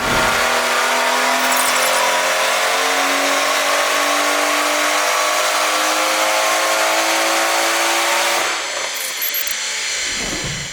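A tuned BMW G80 M3 xDrive with a Pure 800 turbocharger on 99 fuel, running on a dyno: one loud, sustained engine pull climbing steadily in pitch for about eight seconds, then easing off as the revs drop.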